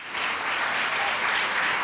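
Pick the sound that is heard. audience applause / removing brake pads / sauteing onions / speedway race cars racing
audience applause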